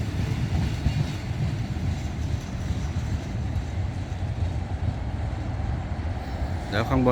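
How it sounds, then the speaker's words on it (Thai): A Red Line electric commuter train bound for Rangsit, Bangkok, rumbles past with a dense, steady roar and rattling wheels, a voice audible faintly under the noise. "รถไฟฟ้าสายสีแดง มุ่งหน้าไปรังสิตนะครับ"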